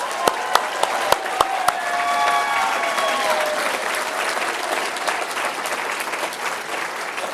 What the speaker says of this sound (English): And one more round of applause to our 20 under 40!